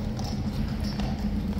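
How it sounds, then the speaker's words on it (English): Horses' hooves clip-clopping on pavement at Horse Guards in London, a steady rhythmic run of hoof strikes at moderate distance over a constant low background rumble. "there's horses coming"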